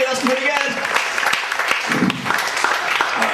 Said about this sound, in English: I know you will applaud